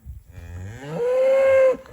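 A cow moos loudly and close: a low grumble that rises into one long, sustained, tonal bellow lasting under a second before cutting off.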